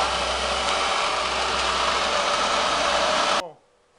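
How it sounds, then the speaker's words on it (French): A swimming pool filtration pump running with a steady, loud broadband hum and rush of flowing water, holding constant for several seconds before cutting off abruptly into near silence. "On peut remettre la filtration en route."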